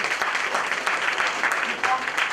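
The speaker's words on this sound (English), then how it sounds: "Much more applause to yourself." Steady audience clapping fills a room at a school panel discussion, a dense continuous patter of many hands at moderate loudness.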